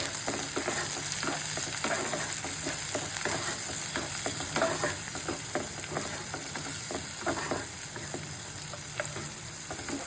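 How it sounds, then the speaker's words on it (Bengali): Chili, tomato and ginger-garlic paste stirred into browned frying onions in a pan, a continuous close sizzle broken by a steady rhythm of spatula scrapes, no speech. "লঙ্কা, টমেটো, আদা রসুনের পেস্টটা পেঁয়াজের ওপর দিয়ে দিলাম"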